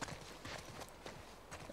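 Horses in The Last of Us Part II, their hooves clip-clopping in an uneven walking rhythm, close but quiet against faint background ambience.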